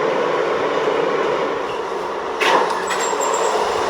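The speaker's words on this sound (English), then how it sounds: "This is the train to Broad Street." A New York City subway Z train running underground, a continuous rushing roar with rattling and a brief louder squeal-like burst partway through, close and steady with no talk.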